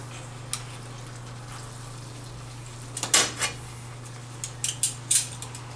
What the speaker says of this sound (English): I'm gonna use my tongs to mix it up a bit.